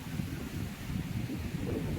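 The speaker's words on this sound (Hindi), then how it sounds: "बहुत तेज हवा चल रही है" Strong wind blows hard over a pond in the summer heat before a dust storm, a steady, loud, rumbling roar with gusts that never let up and no talking.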